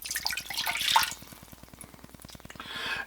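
Water poured into a pan for a lemon sugar syrup for baklava, a short splashing gush followed by a quieter trickle and a final burst of pouring near the end.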